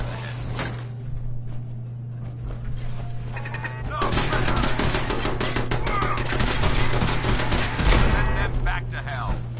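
Sustained rapid turret gunfire in a combat video game, loud and continuous with dense overlapping shots and impacts, starting quieter and intensifying midway over a steady low hum.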